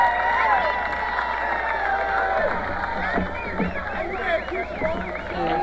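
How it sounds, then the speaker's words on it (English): A football crowd roars and cheers in the stands after an interception in a college game, a dense sustained wash of shouting and clapping while a commentator talks over it throughout. "And the crowd is super excited with that play."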